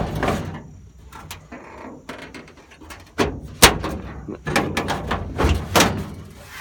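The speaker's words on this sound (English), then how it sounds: "You can open the other door, no problem." Door of a 1936 Chevy truck rat rod being worked: a series of metallic clunks, latch clicks and a solid thump, loud and close, with someone talking in between.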